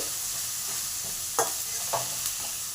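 Ginger garlic paste fries in hot oil in a pan with a steady, close sizzle, broken by two or three brief scraping strokes of a spoon stirring it; no voices.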